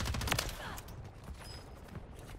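Dense, loud gunfire fills the whole clip in the video game Call of Duty Warzone, sounding like a rapid fusillade of overlapping shots with a brief high ringing tone in the middle.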